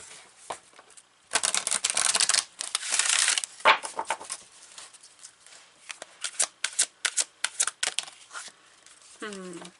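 Tarot and oracle cards shuffled in repeated bursts of papery riffling and slapping, fairly close and moderately loud, with quieter handling between bursts and a short voiced sound near the end.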